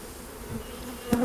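Honey bees drone in a low continuous hum around an opened hive during a spring inspection, the buzz swelling briefly as a bee passes close near the end.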